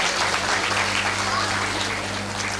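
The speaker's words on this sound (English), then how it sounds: "Please give them a big round of applause." Dense, loud applause from an audience at a school annual day celebration in Chennai after a girls' performance, steady full clapping throughout with a low steady hum beneath.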